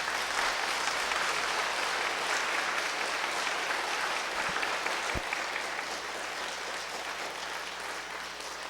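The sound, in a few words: audience applause of welcome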